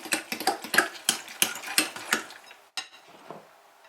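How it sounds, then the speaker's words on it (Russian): Cheese flatbread batter with soda stirred in a bowl, a spoon scraping and clinking in a quick series of strokes, fairly close, then a softer scrape at the end with no talk. "Еще раз перемешиваем."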